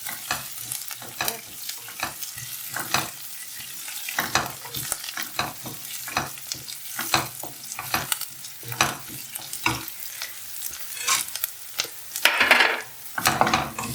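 Cashews frying with ginger, green chilli and curry leaves for rava idli, a steady close sizzle broken by frequent rhythmic scrapes and clacks of a spoon stirring in the pan.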